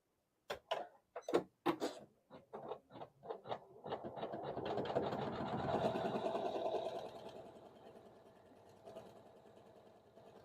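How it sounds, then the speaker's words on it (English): Sewing machine stitching a quilt seam with neutral thread, a few separate clicks and short bursts giving way to a steady, close whirring run that fades out. "now this time I put a neutral thread in the needle and we'll sew a seam"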